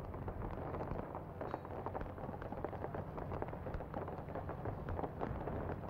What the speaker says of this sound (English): And this is just the start of a great fireworks show